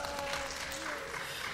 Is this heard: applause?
yes